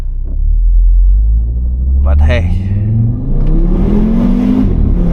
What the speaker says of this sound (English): Let's launch it uphill, because why not? Never say no to a launch control.